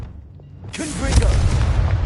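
A Confringo blasting spell goes off with a sudden boom after a quiet moment, followed by a rumbling blast that holds steady to the end.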